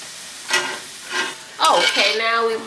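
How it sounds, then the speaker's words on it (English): Shrimp drop into a hot pan of garlic butter and sizzle loudly, joined by a few scrapes and stirs of a utensil against the pan, with short bursts of clatter before the steady hiss. "We're going to add about 1 pound of shrimp."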